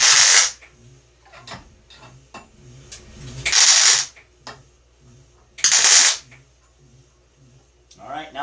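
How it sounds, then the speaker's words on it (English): Spot welding on metal rose petals, with three loud, sustained crackling weld bursts of about a second each, separated by quieter workshop noise and handling sounds. "I'm just going to give it a few spot welds"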